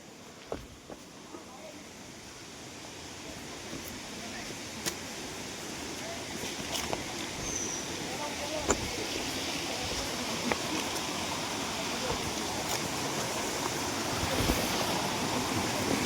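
A waterfall in Koraput roars as a broad, steady rush of falling water that grows gradually louder while approaching it, with faint voices and a few light knocks over it.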